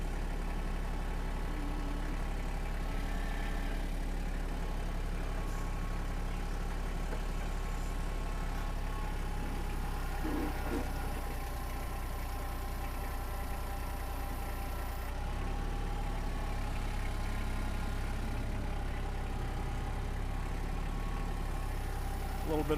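Tractor engine idling on a slope with a steady low drone, fairly quiet and even, with faint clatter and shifting sounds in the background and occasional talk.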